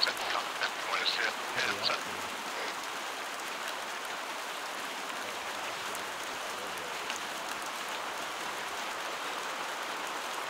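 Steady rain in the video game Arma 3 hisses evenly throughout, with a few faint crackly sounds early on.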